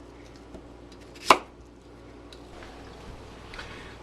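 A single sharp knife chop through kohlrabi on a cutting board, one crisp cut followed by quiet kitchen background.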